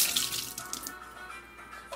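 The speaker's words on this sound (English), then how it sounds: "you add a little bit of water." Water pours into a blender holding small washed pieces of coconut, a steady splashing stream that starts loud and close and then settles into a softer, trickling flow.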